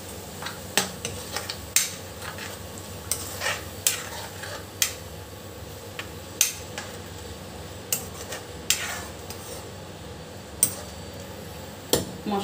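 Masala fries in oil for a puti fish dish, a soft sizzle beneath a spoon that clinks and scrapes against the pan in irregular, close strokes.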